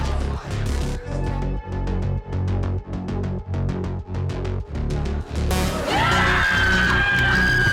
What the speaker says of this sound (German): Die schreien eigentlich durchgehend nur Liquid.